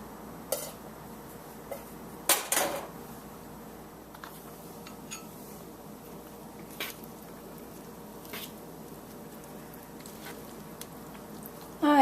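Spaghetti cooked, lightly salted and dressed with a little olive oil, gently tossed with two forks among roasted vegetables: faint, sparse wet squishes and occasional soft metal ticks against a quiet background.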